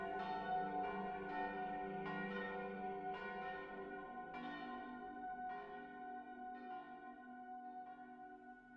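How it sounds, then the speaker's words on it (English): Church bells ring out in San Gimignano, Tuscany, a steady series of rich, resonant strikes with long overlapping decays, moderately distant and alone with no voices. "we can almost hear the miraculous church bells"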